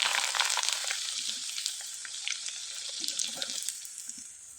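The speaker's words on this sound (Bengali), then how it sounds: "এবার আমি এখান থেকে কিছুটা নিয়ে ভেজে আপনাদের দেখিয়ে দিচ্ছি।" Shonpapri pitha, a crisp flour snack, frying in hot oil, giving a dense, steady bubbling sizzle that stays loud and close throughout and eases off slightly toward the end.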